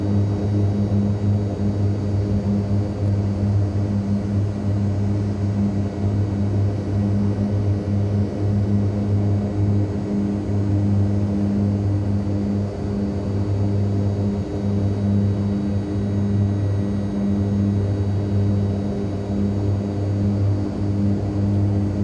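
Propeller aircraft engine in Microsoft Flight Simulator 2020, holding about 70 knots at 10,000 feet: a steady, loud droning hum with a constant low throb that runs unchanged throughout, no talk.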